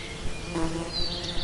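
Honey bees buzz steadily during a honey harvest, a dense close swarm hum with individual wingbeats rising and fading, one bee whining louder near the microphone partway through.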